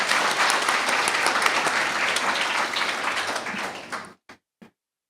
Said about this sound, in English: give another big round of applause to every woman that has been a part of Dress for Success